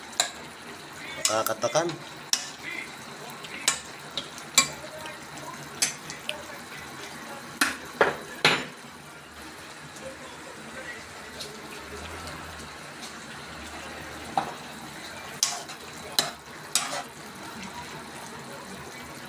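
Food being stirred in a frying pan, with sharp clinks of a utensil against the pan at irregular intervals over a low sizzle, close by, while a person speaks briefly.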